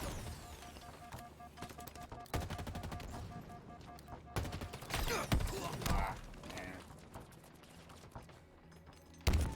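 Automatic weapons fire in a Halo multiplayer oddball match comes in repeated bursts and single loud shots, with short lulls between the volleys.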